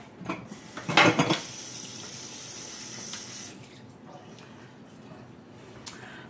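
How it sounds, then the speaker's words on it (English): Food rinsed under a running kitchen tap, with a brief burst of splashing water and clinking dishes near the start, then a faint, steady trickle. "let me rinse this off"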